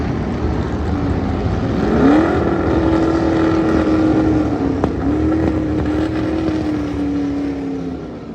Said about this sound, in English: just have a listen to how good that engine sounds